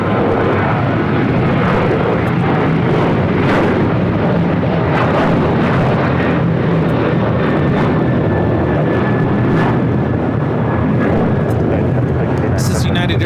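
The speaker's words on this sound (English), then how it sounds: "This is United Airlines Flight 1069 taking off to Chicago O'Hare on a 737-800." A United Airlines Boeing 737-800 jet roars loudly on its takeoff run at LAX, a continuous broadband blast of engine thrust with a steady high whine, while people talk over it.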